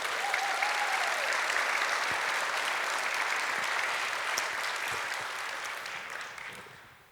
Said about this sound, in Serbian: Još jedan aplauz, molim vas.